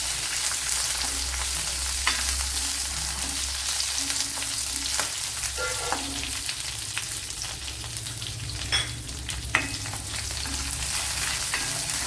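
Bajji-type green chilies fry in hot oil in a pan while a quail egg roast is being prepared. A steady, moderate sizzle and crackle holds throughout, with occasional stirring clicks and no talking.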